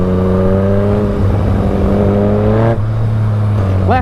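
A Yamaha FZ09 motorcycle with a quickshifter, ridden hard, holds a loud, steady engine drone; a quick break near the end marks a shift before the revs climb again.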